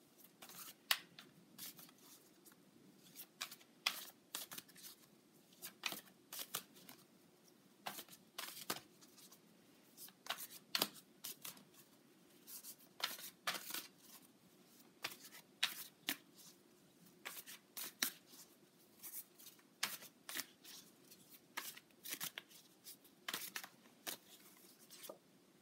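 Tarot cards are shuffled by hand before one is drawn, giving quiet, close, crisp riffles and soft slaps in irregular bursts over a very quiet background, with no talking.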